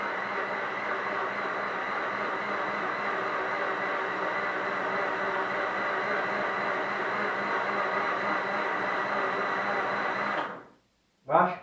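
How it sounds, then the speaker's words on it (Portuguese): A blender blending apples for juice whirs steadily for about ten seconds, a loud, constant grinding hum, then cuts off abruptly into silence before a brief final burst. "O liquidificador batendo, né, a maçã."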